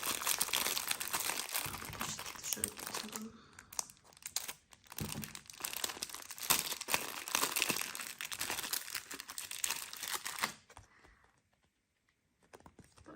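A plastic bag crinkles as a chicken-shaped surprise egg filled with toys and candy is handled, giving a quiet, steady rustle and crackle for about ten seconds before it fades to near silence.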